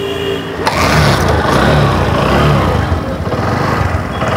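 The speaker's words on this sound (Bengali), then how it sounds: "আপাতত সেলফ হচ্ছে না, যে কারণে আমরা কিক দিয়ে আপনাদেরকে সাউন্ডটা শোনানোর চেষ্টা করতেছি।" A motorcycle is kick-started, then its engine catches and runs loud and close in a steady, even idle that continues to the end without talk.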